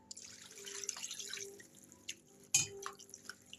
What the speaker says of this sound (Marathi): पहिल्यांदा स्वच्छ धुवून घ्यायचं आहे कांदा टाकून.